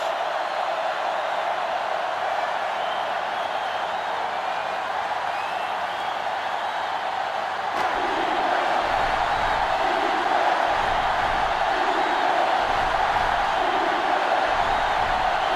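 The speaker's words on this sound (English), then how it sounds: "this crowd is going absolutely crazy" Stadium crowd in the NCAA Football 2005 video game roars in a steady, broad wash of cheering that grows louder halfway through, with low thumps underneath.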